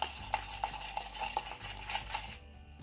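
Coffee grounds stirred into slime with a tiny spoon, a quiet series of rhythmic clinks and soft sticky squelches, close up, fading out near the end.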